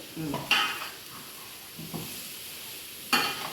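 Pieces of ash gourd, added after tomato for a Bengali-style gourd curry, sizzle softly in a pan, with a few sharp bursts and light stirring clatter against a low background hiss.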